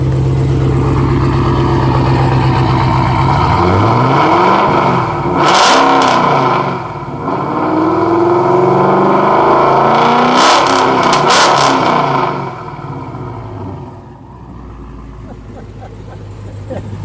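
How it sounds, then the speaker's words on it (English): A 2018 Dodge Challenger Demon idles with a deep, steady exhaust burble, then revs sharply twice, the revs rising and falling before settling back to a lower rumble. "let me listen to the exhaust note"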